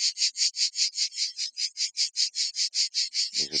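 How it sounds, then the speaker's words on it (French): Cicadas sing in Provence in a bright, rapid pulsing buzz, about five beats a second, steady and close. A low voice begins just at the end. "une partie de moi pense que les cigales devraient chanter moins fort"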